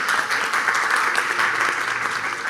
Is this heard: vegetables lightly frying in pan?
no